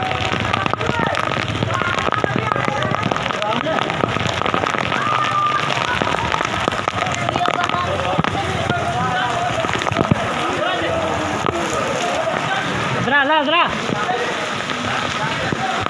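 Rain falling in a village, a steady close hiss of drops pattering on surfaces throughout, with a voice speaking intermittently over it and a brief wavering tonal sound near the end.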